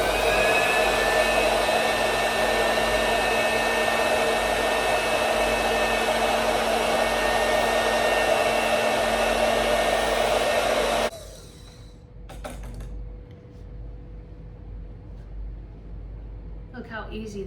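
Electric fabric cutter slicing through silk in a sewing room, a loud steady motor whine running for about eleven seconds before switching off abruptly, followed by quiet room tone with faint handling sounds.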